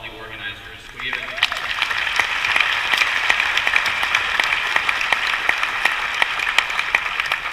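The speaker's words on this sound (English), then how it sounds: "just another big round of applause for all the organizers" A conference audience claps steadily after a brief quieter opening, a dense, sustained round of applause honoring the organizers at the MidWest Dreamin' 2015 Salesforce community opening keynote.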